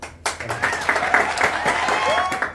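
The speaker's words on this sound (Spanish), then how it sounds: "Un fuerte aplauso para recibir a Mario y a Rubén y a Mayo." Audience applause welcoming guests onto a podcast recording, a burst of clapping that starts sharply and carries on with voices talking and calling out over it.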